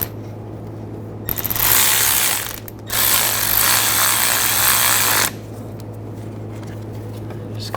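A power tool tightens bolts on a Volkswagen TDI Jetta Wagon CV axle, two loud, steady whirring bursts of a couple of seconds each, separated by a short pause, with quiet garage room tone before and after.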